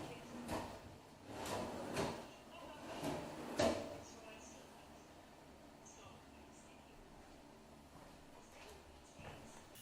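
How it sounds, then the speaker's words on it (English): Soft close wooden drawers on a newly built custom bathroom vanity slide shut several times, giving soft, muffled thumps in the first four seconds, followed by quiet room tone. "Closing soft close drawers for the first time has got to be a top 10 woodworking experience."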